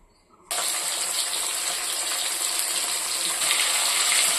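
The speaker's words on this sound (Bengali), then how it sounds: "এই যে ছোটো মাছ চলো মাছগুলো ভাজতে থাকি" Small turmeric-coated fish drop into hot oil and set off a sudden loud sizzle that keeps hissing steadily, swelling slightly toward the end.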